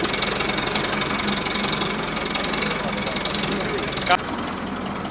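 A tractor engine idling while hitched to a trolley gives a steady, loud mechanical drone with a knocking texture throughout, and a brief thump near the end.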